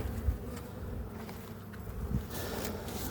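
Honeybees around a hive being tended before winter, a close continuous buzzing hum of many bees with a few louder passes near the listener, heard alone without talk.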